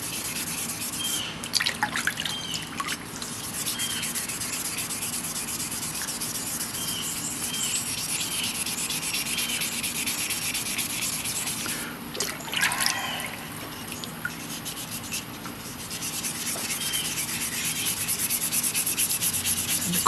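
Continuous wet sanding of an aluminum pot with fine sandpaper up to 2,000 grit, a soft steady rubbing hiss with occasional drips and slight changes in stroke pressure, no talking.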